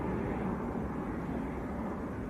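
An Embraer 190 airliner taking off at Leeds Bradford Airport, a continuous low jet rumble and roar heard from a distance, steady throughout with no voices.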